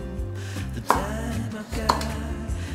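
A knife slices a short length of cucumber on a cutting board, giving two crisp, separate chops about a second apart over a low steady background tone.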